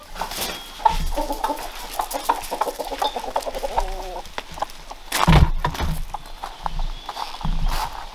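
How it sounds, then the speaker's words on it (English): Hens cluck and murmur nearby in a home gym amid scattered scuffling and thumps, with a sharp burst of noise partway through. "This is not a place for chickens."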